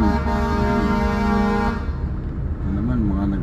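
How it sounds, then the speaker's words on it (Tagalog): Hurried trucks rush past on a busy city road, with loud engine drone and a sustained horn toot at the start. A second, wavering horn-like tone comes later over the continuous traffic noise. "mga nagmamadaling truck"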